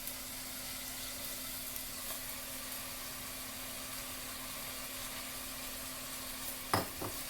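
Fresh spinach and assorted vegetables cook in a pan, giving a faint, steady sizzling hiss over a low hum, with a couple of sharp scraping knocks from stirring near the end.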